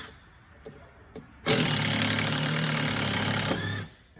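A power driver backs out self-tapping hex screws in a steady, loud whirring burst of about two seconds, with quieter clicks and handling noise before and after.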